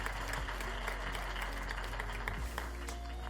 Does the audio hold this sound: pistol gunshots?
no